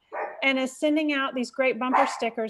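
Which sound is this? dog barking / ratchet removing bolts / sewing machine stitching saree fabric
dog barking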